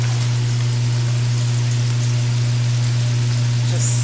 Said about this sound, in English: Just sizzling.